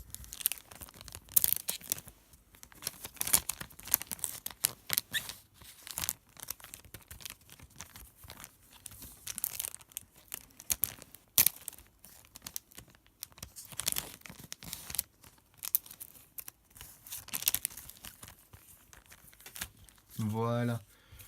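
A Shadowverse Starforged Legends card booster pack wrapper being carefully torn open, with intermittent crinkling and ripping foil sounds in short bursts, close and fairly quiet, with a voice talking.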